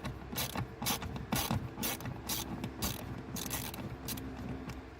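BMW glove box screws being loosened by hand tool under a flashlight, giving a rapid ratcheting clicking in repeated bursts, close and moderately loud over a low hum.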